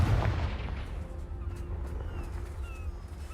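Confringo fire spell in the Hogwarts Legacy video game: a heavy, booming blast at the start that decays into a rumbling tail, with faint game sounds after.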